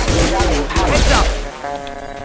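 Shotgun blasts and combat noise from the sci-fi shooter Mass Effect 2, loud and dense over a low rumble, then fading into a ringing electronic tone; a voice speaks amid the action.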